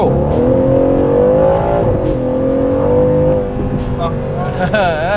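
A sports-car engine, an Aston Martin DB11, revs hard and climbs in pitch under acceleration, loud and close for the whole stretch, with a rising whine near the end.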